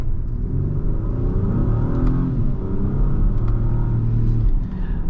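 A 2022 Acura MDX Type S SUV with a 10-speed automatic accelerates steadily, its engine droning and rising in a continuous loud rumble heard from inside the cabin.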